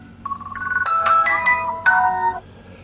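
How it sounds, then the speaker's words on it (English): A phone ringtone plays as a rising melodic chime, repeating in a few bright bursts over about two seconds, fairly close and clear, heard during a potato planting session in a garden. "there's the phone"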